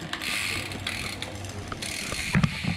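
Bicycle derailleur gears being tuned, giving a steady mechanical ticking and ratcheting with a faint rattle and a heavier clunk near the end, close by with no talk.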